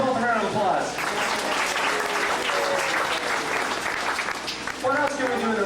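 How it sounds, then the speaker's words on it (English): A theme-park special effects show audience claps loudly and steadily for several seconds, with cheers and an amplified voice mixed into the applause. "Let's give them both a round of applause"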